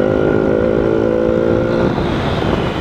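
Yamaha Fazer 250 motorcycle engine droning steadily at high revs while riding, loud and close, then the pitch drops as the throttle eases near the end.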